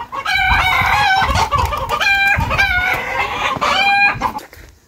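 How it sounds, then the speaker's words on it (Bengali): Local chickens clucking on a farm in Saudi Arabia while a rooster crows close by, several loud, repeated crows over continuous clucking, with no talking. "দেশি মুরগিগুলো দেখতে পাচ্ছেন।"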